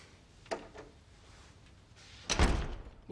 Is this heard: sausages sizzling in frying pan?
no